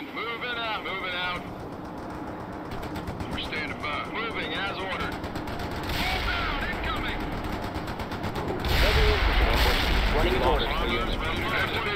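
Rapid machine-gun bursts and scattered gunfire crackle through a battle in the strategy game World in Conflict, loud and dense under excited speech and battlefield rumble.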